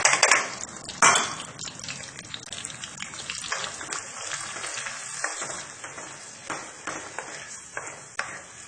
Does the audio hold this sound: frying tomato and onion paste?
yes